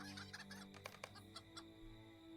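Chickens in Lord of the Rings Online cluck in a busy run of short, quick calls, fairly quiet and heard alone without any talk.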